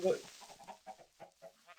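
Chickens in the Minecraft video game let out a faint run of short, repeated clucks at a soft level, with a brief louder squawk at the start.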